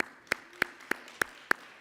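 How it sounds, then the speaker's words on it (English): Six sharp claps at the National Newspaper Publishers Association convention breakfast, evenly spaced and crisp over near silence, like one person clapping slowly rather than a full crowd. "Give yourselves a round of applause."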